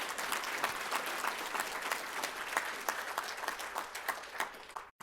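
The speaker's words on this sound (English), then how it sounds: "How about a round of applause for the Live On Nebraska staff?" An audience at an awards celebration program gives Live On Nebraska staff a round of applause: a dense, even patter of many hands clapping, fairly distant and uniform, ending abruptly.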